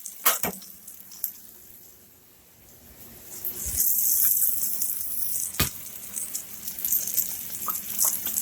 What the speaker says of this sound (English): I've got my onions back here cooking with some Worcestershire sauce